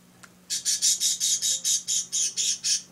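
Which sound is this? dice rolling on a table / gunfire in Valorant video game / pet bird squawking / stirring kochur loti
pet bird squawking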